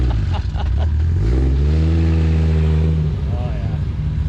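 BMW cars lined up at a mountaintop spot on Hurricane Ridge, engines idling and then revving up in a loud, sustained rising drone close by, with voices talking over the engine noise.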